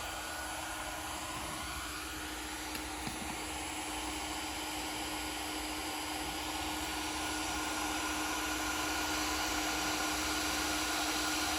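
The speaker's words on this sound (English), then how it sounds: "It may be hard to hear on video, but there's a slight whistle sound, and that's what Nate's looking for" A hot air welding gun at 700 degrees, held about half an inch from a PVC pipe and patch, blows with a continuous, even airy hiss and a thin, steady whistle tone throughout.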